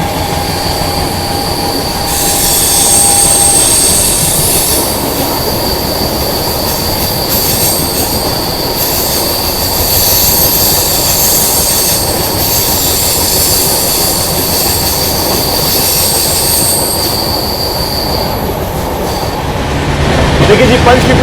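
A Vande Bharat express train running through the Panchkula ghat section on the way to Rajkot via Vadodara, with a steady loud rumble of wheels on rails, wheel squeal and a sustained high whine throughout, close and continuous.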